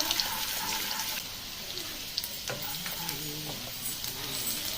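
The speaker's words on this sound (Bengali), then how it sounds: "সেই আদাটা তেলের মধ্যে দিয়ে নেব। ভালো করে নাড়াচাড়া করে ভেজে নেবো একটু।" Chopped ginger sizzles and crackles in hot oil as it is stirred around the pan, a steady bright frying hiss broken by soft scraping strokes, with no voices over it.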